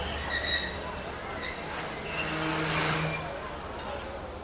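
Khyber Mail passenger train moving between Rahim Yar Khan and Karachi, a steady close rumble of wheels on rails with faint metallic squeals and clinks, with talk over it.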